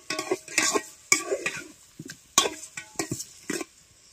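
Brinjal curry is stirred in a pot while cooking outdoors in a forest, with a spoon scraping and clanking in irregular strokes over a faint sizzle, close and with no voices.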